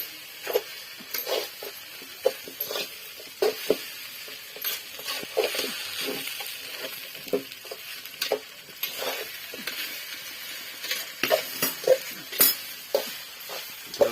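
Poha being stirred by hand in a pan at an outdoor village cooking spot: irregular scraping and clinking of a spoon against the metal pan, with soft sizzling between strokes and no speech.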